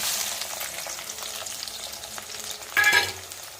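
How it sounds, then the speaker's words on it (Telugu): Onions drop into hot oil: a steady broadband sizzle and stirring builds to a sudden louder, crackling burst near the end, close and with no talking. "ఇక ఉల్లిగడ్డ వేస్తున్నా."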